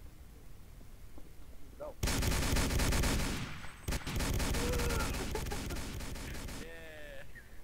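Dense bursts of rapid gunfire in a video game, loud and sustained for several seconds with a brief break in the middle. A voice speaks briefly near the end.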